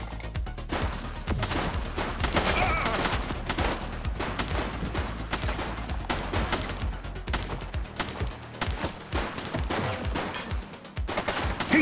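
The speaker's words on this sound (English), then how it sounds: "Shots fired!" Rapid video game gunfire during a shootout, dense overlapping bursts of shots and automatic fire, loud and continuous throughout with no clear pauses.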